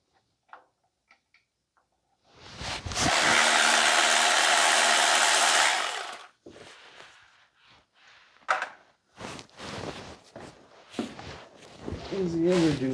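Bolts being taken off the oil pan of a 2009 Pontiac Vibe GT 2.4, a steady ratcheting whir for a few seconds, then scattered clicks, clanks and handling noises up close, with someone talking briefly.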